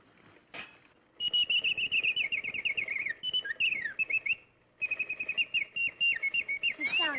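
A wind-up toy bird whistles a bright, warbling song in quick repeated trills, close and clear, with brief pauses between phrases.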